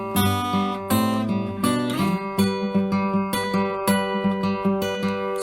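Fingerstyle acoustic guitar plays a song's intro and opening verse, with plucked notes ringing in a steady, lilting rhythm and repeated bass and treble patterns, played alone and up close without any voice.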